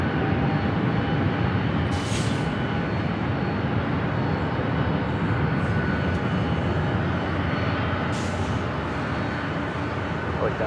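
A fixed-wing airliner passes overhead at Los Angeles International Airport, its engines making a steady, loud, close roar for the whole stretch, with no break or fade.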